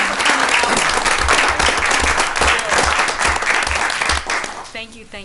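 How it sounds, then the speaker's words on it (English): An indoor audience at a council meeting applauds for firefighters, with loud sustained clapping that tapers off as a voice begins speaking. "I'd like to give you guys a round of applause."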